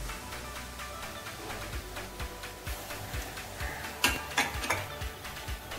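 Beef pieces dropped into a pan, giving a series of light clinks and taps in an uneven rhythm, with a few sharper knocks near the end.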